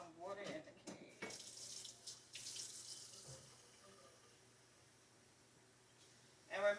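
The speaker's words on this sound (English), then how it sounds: "I'm going to put some water in the cake." Water runs from a kitchen tap in short spurts for cake batter, a few splashing bursts of flow before the sink falls quiet, then one last short gush.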